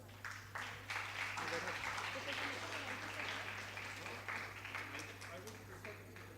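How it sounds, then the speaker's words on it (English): Audience applause welcoming Professor Mittal at an education event on visual impairment, a steady wash of clapping across the whole stretch, moderately distant, with a constant low hum underneath. "We welcome Professor Mittal with a huge round of applause."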